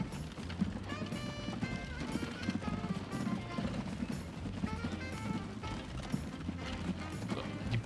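Horses gallop with steady, rapid clip-clop hoofbeats in the Transport Fever video game, mixed into busy game music and effects that continue throughout.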